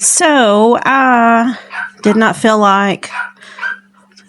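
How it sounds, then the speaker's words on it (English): A dog barks and whines in a drawn-out, yelping way, loud and close, while a person talks over it. "Sorry if you hear that barking."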